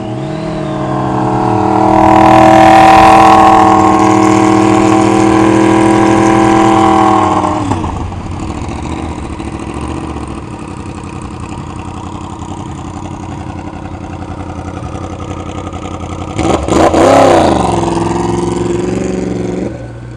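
A 2016 Yamaha R1 sportbike engine revs hard and accelerates loudly. The pitch climbs over several seconds, then settles into a steadier drone, and a second sharp rev surges near the end.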